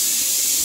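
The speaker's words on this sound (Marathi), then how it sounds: "माझी कुकरची शिस्ती पण होते" A pressure cooker whistles in a home kitchen while chicken is being prepared, a short, loud burst of hissing steam.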